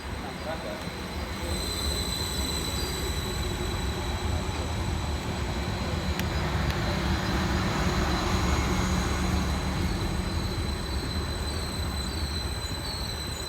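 Transport for Wales unit 231007 pulls into Cardiff Queen Street station on the Valley Line, giving a steady, loud rolling rumble with faint high wheel squeal that lasts throughout.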